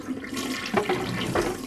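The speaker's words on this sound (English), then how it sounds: "Flushing your poop." A toilet flushing in the Spy Kids film, a short watery gush and swirl at moderate level, heard with no talk over it.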